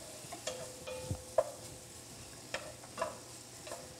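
Sausage sizzles in a pot on the stove, a soft continuous fry broken by sharp scraping clicks of a utensil stirring at irregular intervals, with no speech.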